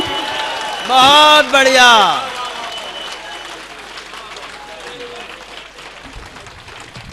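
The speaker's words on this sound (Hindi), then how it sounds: "1 मिनट तक दोनों हाथ ऊपर उठाकर तालियां बजनी चाहिए।" A crowd claps at a Hindi poetry gathering (kavi sammelan) in a pandal in Hardoi. Steady applause continues throughout, under a man's loud exclamation near the start.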